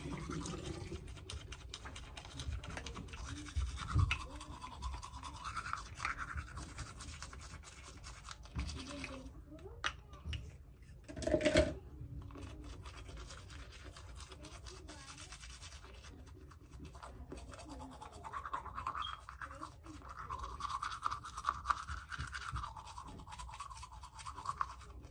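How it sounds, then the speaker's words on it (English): Teeth brushed with a Sensodyne toothbrush and Sensodyne toothpaste produce a steady, close, wet scrubbing and rasping that runs throughout, with a brief louder splash or rinse partway through and short pauses between strokes. "I'm gonna brush my teeth anyway."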